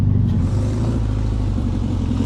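A classic 1960s VW Beetle, an old abandoned project car, drives steadily toward a field with a low, continuous air-cooled engine drone and rumble, close and loud throughout with no talking.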